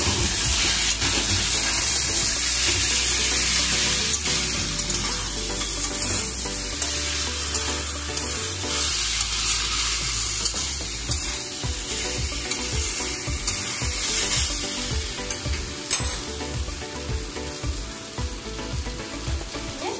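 Two green chillies hit hot oil in a pan for a potato and pointed-gourd curry with lentil fritters, giving a loud, steady frying sizzle and hiss that carries on for the whole stretch with a few stirring scrapes.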